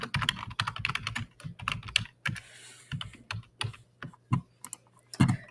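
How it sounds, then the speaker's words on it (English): Fingers typing on a computer keyboard while filling in a spreadsheet cell, crisp close key clicks in quick uneven bursts with short pauses between words, with no talking. "So all I'm doing is just typing in the cell."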